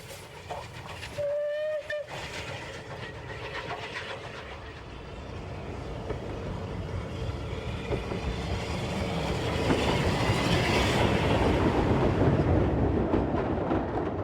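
A steam locomotive hauling Orient Express coaches rumbles past close by with steady rolling noise and rhythmic wheel clatter, a short whistle-like tone early on, growing louder toward the end.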